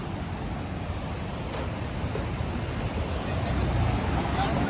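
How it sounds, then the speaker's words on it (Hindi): The flooded Chandrabhaga river in Rishikesh rushes past as a broad, steady roar of fast water with wind buffeting, swelling slightly louder toward the end. "देखो चंद्रभागा नदी की बाढ़ देख लो आप। कितनी बाढ़ है नदी में आज, ये प्रेशर है इसका।"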